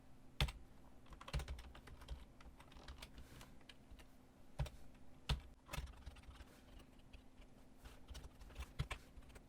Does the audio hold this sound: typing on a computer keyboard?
yes